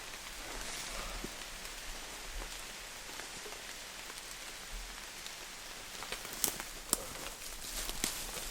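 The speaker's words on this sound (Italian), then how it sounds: "L'intensificarsi della pioggia non bastava." Steady rain falling on a mountain outdoors, a dense patter on surfaces that stays fairly soft, with a few sharper knocks and possible footsteps near the end, and no talk.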